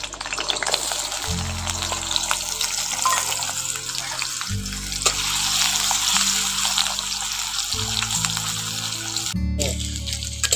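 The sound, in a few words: potatoes frying in hot oil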